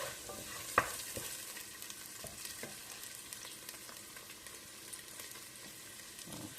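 Chopped onion sizzles gently in olive oil in a pan, a soft steady crackle with an occasional stir and one sharper clink early on, heard close with no talk.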